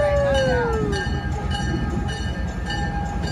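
Train whistle on a passenger train ride, one long whistle tone that slides down in pitch, followed by fainter sustained tones over the steady rumble of the moving train.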